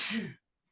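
A single sharp sneeze bursts out close by and ends abruptly, followed by near silence.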